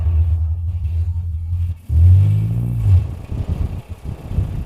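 A Fiat 125p's engine rumbles low and steady nearby, drops briefly as gears are shifted, then swells into a louder rising rev before settling back into an uneven idle.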